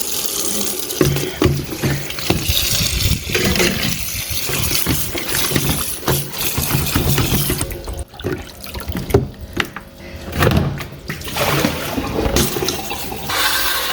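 Amaranth leaves washed by hand under running tap water, a steady rush of water into a sink with irregular splashing and sloshing throughout, close and fairly loud with no talk.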